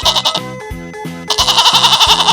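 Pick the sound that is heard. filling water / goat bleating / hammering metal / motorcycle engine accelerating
goat bleating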